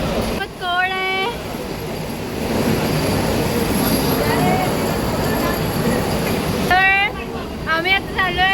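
Inside a moving Mumbai-bound train, a loud steady rumble and rushing noise fills the carriage, while people talk over it at the start and end.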